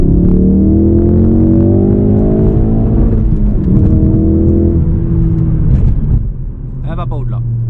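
A 2016 Ford Focus RS with the performance pack revs toward its redline. The engine surges loudly and rises in pitch, eases off, then climbs again while someone talks over it.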